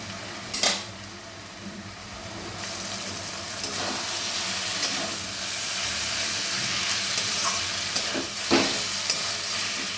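Hilsa fish head with water lily stems simmers in a pan with a steady, loud sizzle and hiss, broken by a few clanks and scrapes of stirring.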